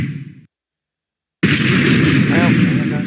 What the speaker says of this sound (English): here goes the explosion again.